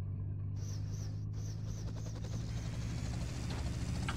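Helicopter landing in Grand Theft Auto: Vice City, a close, steady rotor and engine hum with a rhythmic chopping pulse throughout, heard alone without talk.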